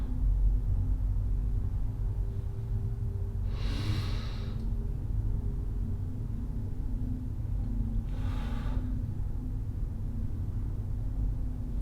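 Deep meditative breathing, two slow, soft breaths several seconds apart, each a brief airy rush over a constant low background hum.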